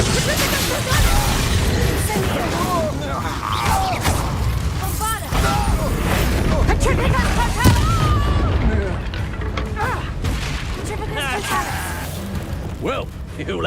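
Spell-combat booms and crashes from Hogwarts Legacy, including a Bombarda explosion spell, burst repeatedly amid dense battle noise with shouting voices and game dialogue throughout.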